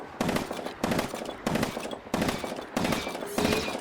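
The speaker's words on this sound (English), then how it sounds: "this includes custom sound effects for the weapon as well" Rapid bursts of rifle fire from a Star Wars Battlefront 2 mod weapon, five short volleys of quick shots separated by brief pauses, sharp and punchy.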